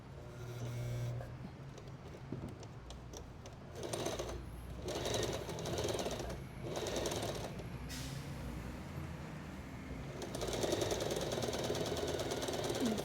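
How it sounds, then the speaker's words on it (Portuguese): A sewing machine stitching a garment side seam, running in bursts of rapid whirring and rattling with short pauses between runs, and a faint quiet voice in places. "Eu ouvi um barulhinho diferente da minha máquina"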